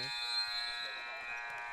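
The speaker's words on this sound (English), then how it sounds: "I heard the buzzer on the court from the other" A shot-clock buzzer at a basketball game drones steadily, faint and from across the gym, with brief bits of chatter under it.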